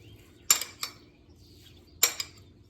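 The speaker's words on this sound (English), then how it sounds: "I'm going to take my spoon and mix it up." A spoon clinks against a container while stirring red food coloring into milk for homemade milk plastic: three or four sharp, close metallic taps spread over a few seconds with quiet gaps between.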